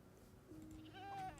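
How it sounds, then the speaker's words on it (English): A baby goat bleats in Minecraft Bedrock, a short wavering high-pitched cry rising near the end of a quiet stretch of faint background sound, close and isolated, with no speech. "I'm not killing baby goat."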